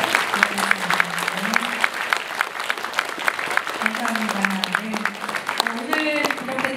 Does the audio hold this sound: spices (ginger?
no